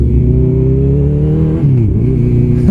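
Honda CB1000R motorcycle with an Akrapovic full exhaust system rumbles close and loud while riding, a deep steady engine drone with a brief dip in revs before it climbs again.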